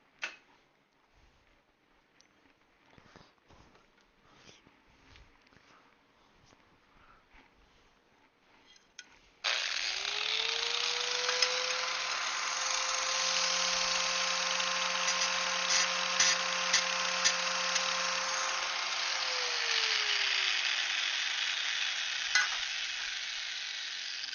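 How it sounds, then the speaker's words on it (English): An angle grinder bites into metal in a workshop: after a quiet stretch it spins up sharply with a rising whine, then holds a loud, steady, hissing grind for about thirteen seconds before winding down near the end. "I'm gonna have to hit that with an angle grinder."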